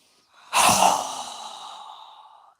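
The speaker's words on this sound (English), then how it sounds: "Strong exhale." A single strong exhale during a yoga breathing exercise, a sharp forceful rush of breath that tapers off over about two seconds, close and alone.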